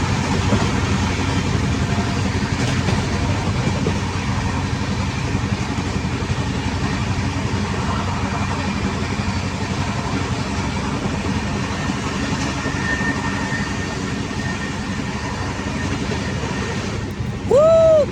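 Steady, loud rumble and rattle from inside the Duronto Express as it runs alongside and overtakes the Mahabodhi Express, a continuous rail drone with no talk.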